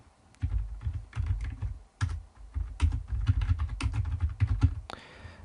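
Fingers type on a computer keyboard in irregular bursts of close, crisp key clicks with short pauses, ending in a louder clack.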